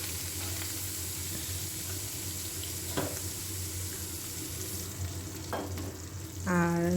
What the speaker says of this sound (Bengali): লাল লাল করে চিংড়ি মাছ ভাজবে, আধ ভাজা করবে না।